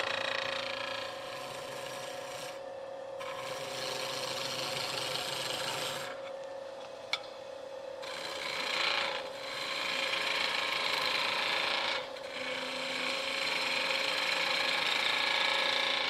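A woodturning tool cuts spinning wood on a lathe with its bevel rubbing the surface. The scraping rasp is steady but faint and breaks off in a few short pauses.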